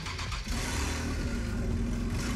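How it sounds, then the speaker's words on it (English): A car engine revs hard in Gran Turismo 6, a loud, continuous mid-pitched roar that surges briefly and then holds a steady high rev, close and alone. "let's listen to that engine"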